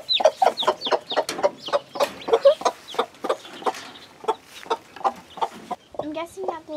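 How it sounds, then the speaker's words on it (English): A feisty crossbreed chick clucks and peeps in quick, repeated bursts after being set down, close and fairly loud, with a short pause near the end. "go ahead and set the chick down in there"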